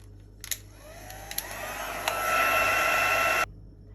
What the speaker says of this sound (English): I'm going to dry this off again with my heat tool.